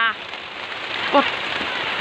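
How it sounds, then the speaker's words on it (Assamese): Heavy rain pours steadily over a festival hut on the night of a Bihu celebration, a dense, continuous hiss with a brief voice heard faintly in the middle. "কেনেকুৱা বৰষুণ আহি গ'ল দেখিলে"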